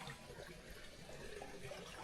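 Shallow stream about a foot deep flowing over stones near a hidden water cave on the ride to Agumbe, a steady close rushing and trickling wash with no voices.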